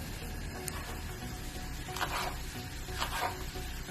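Chopped onion and minced meat fry in a pan with a steady, close sizzle, punctuated by a few brief scraping stirs as the mixture cooks.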